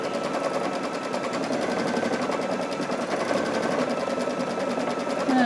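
A sewing machine stitching out quilt sashing with a Luminaire machine, making a steady, fast, continuous mechanical whir with a rapid regular needle rhythm throughout, close and even.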